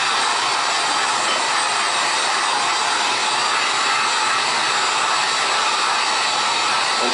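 A heat gun blows hot air onto an Xbox circuit board, a loud, continuous, even hiss and whoosh that holds steady without a break.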